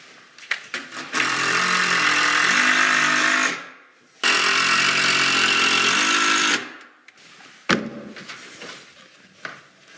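A power drill drives short 1.25-inch pocket screws into closet uprights, whirring loudly in two sustained bursts of about two seconds each, followed by sharp knocks and light clatter, close up with no talking.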